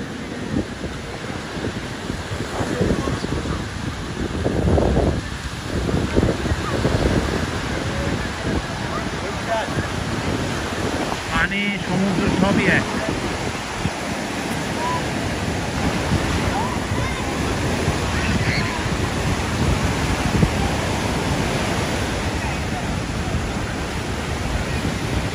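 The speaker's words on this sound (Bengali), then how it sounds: "দূর থেকে পানি এসে আসতে পড়ছে" Ocean waves break steadily on a New York beach, a broad continuous roar of surf with wind rushing across the microphone and no clear pauses.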